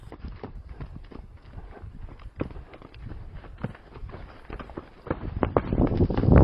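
Horse loping with a rhythmic three-beat clip-clop of hooves, steady and mid-distance, growing louder and closer toward the end, with no voices over it.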